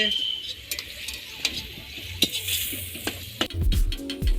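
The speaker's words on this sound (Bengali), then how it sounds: "এখন ডিম আর ক্যাপসিকামটাকে ভালো করে ভেজে নিব" Egg and capsicum frying for fried rice at a small outdoor winter picnic, a steady sizzle with scraping stirs and sharp utensil clicks, louder bursts near the end.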